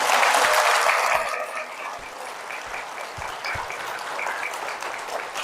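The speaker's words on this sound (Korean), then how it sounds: "저 높은 차원으로 초대하시는 그분께 감사의 박수 올려드립시다" A congregation applauds in thanks during a Catholic priest's Holy Spirit lecture in a church, with a strong first burst of clapping easing into softer, lingering claps with a few isolated hand strikes.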